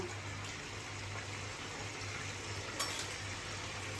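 Whole cardamom, cinnamon, cloves and bay leaf sizzling softly in hot oil in a kadai for Kolkata-style chicken biryani, a steady faint crackle with a low hum beneath and one brief clink.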